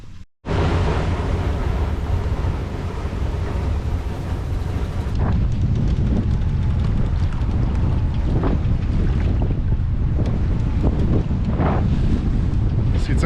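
Strong wind buffets an anchored sailboat off Mindelo, Cape Verde, a loud steady roar with gusty rushes and rigging and water noise throughout, broken by occasional sharper knocks.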